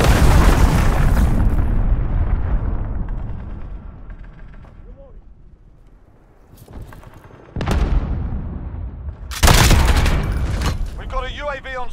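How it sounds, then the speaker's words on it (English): An incoming enemy cruise missile in Call of Duty: Modern Warfare: a heavy opening blast fades into quieter rumble, then sharp bursts of gunfire and further explosive impacts hit hard near the end. "Enemy cruise missile incoming,"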